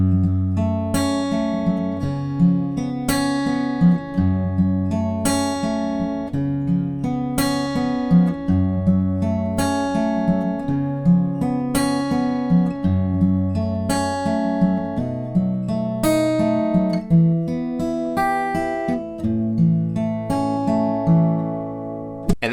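Acoustic guitar finger-picking the chorus of a song, each chord arpeggiated from a bass note in a gentle, evenly plucked pattern with ringing strings, played alone and close.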